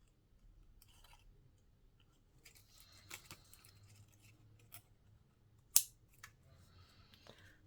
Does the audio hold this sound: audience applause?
no